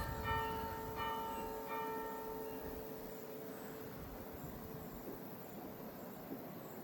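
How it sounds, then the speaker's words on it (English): Church bells ring out at Berwick Church in Sussex, a few fairly distant, resonant strikes that fade away within seconds into quiet outdoor ambience with faint traffic. "Oh, do you hear the church bells?"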